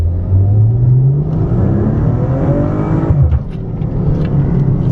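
A 2015 Maserati Ghibli S Q4 engine in sport mode revving up as the car accelerates, a rising near growl with turbo whir that climbs, briefly eases, then continues, with no voices.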